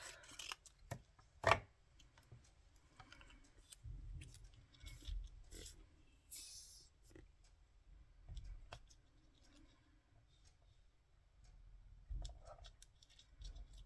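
Scissors cutting paper in half for a collage, a few soft snips and rustles heard faintly and close amid quiet handling noises and small clicks.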